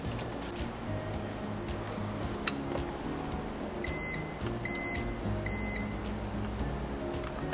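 Sharp mechanical clicks sound at irregular intervals inside a BMW E46 M3 convertible, alongside three short electronic beeps and a low steady hum.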